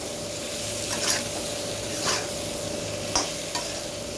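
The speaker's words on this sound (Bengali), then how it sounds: "আমি সামান্য একটু নেড়ে এর মধ্যে একটু জল দিয়ে দিই" Raw plantain is stirred in hot oil in a pan for a fish curry, giving a steady soft sizzle with a few scraping stirs of a spoon close by, and no talking.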